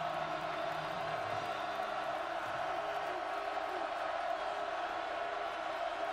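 A loud stadium crowd at a college football game roars in a dense, continuous wash of cheering and shouting that never lets up.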